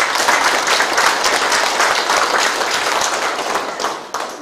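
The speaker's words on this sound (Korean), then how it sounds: "그 평가가 정당하고 올바르다고 생각되는 박수 한 번." A crowd at a town-hall community meeting in Changjeon-dong gives a round of applause, dense steady clapping from many hands filling the room at close range before tapering off near the end, with no talk over it.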